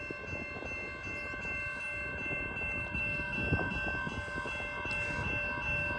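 A Union Pacific freight train approaches through a cutout on the Palmdale Cutoff, a steady low rumble and rail noise building with sustained horn-like tones, fairly close and continuous, with no talking.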